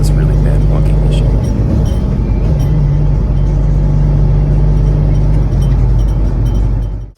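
Jeep XJ Cherokee driving at speed with a bucking engine fault: loud, steady low engine and road rumble with a droning hum, ending abruptly.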